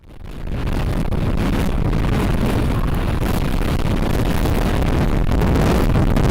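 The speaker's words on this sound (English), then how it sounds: "60-mile-an-hour winds blew through Idaho Falls this afternoon, and you're looking at some of it and hearing it as well" Strong 60-mile-an-hour wind gusts in Idaho Falls roar loudly and continuously, buffeting the microphone after a brief quieter start.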